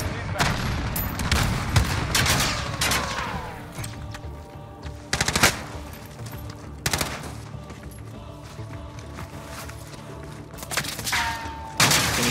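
Video game gunfire rings out in scattered sharp shots and quick bursts, some loud and close, others more distant, with a player talking between them.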